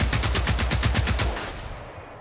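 Rapid automatic gunfire from shooting in the video game Generation Zero, a fast even burst of shots for over a second that then cuts off into a fading tail, loud and close with no talk.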